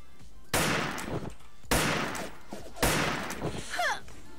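Sniper rifle shots in an online shooter game, three loud cracks spaced a little over a second apart, each trailing off quickly, with a brief whizzing sound after the last.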